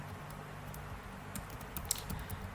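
Quiet, close clicking of a computer keyboard as serial print text is typed, irregular keystrokes in short clusters over a faint room hum.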